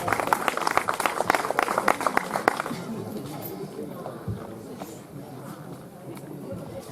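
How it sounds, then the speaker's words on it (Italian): Audience applause at a poetry event in Atzara, a burst of clapping from a small crowd that fades after a few seconds into quieter room noise and scattered sounds. "Applauso William."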